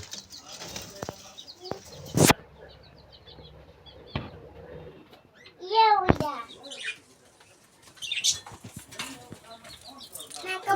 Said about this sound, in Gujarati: તો જો આપણું કબૂતર